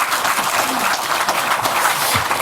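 An audience at a Democratic Party policy caucus meeting claps steadily to welcome a task force head to the podium, a dense, even wash of applause filling the whole moment with no voices over it.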